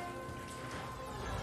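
Heavy downpour during a Toronto storm: a steady, dense hiss of rain on surfaces with no pauses, moderately loud and unbroken throughout, with no voices.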